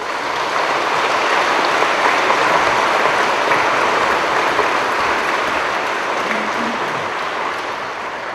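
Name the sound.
church congregation applauding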